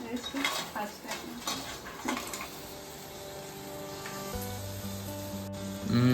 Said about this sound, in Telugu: క్రాబ్స్ వేసేద్దాం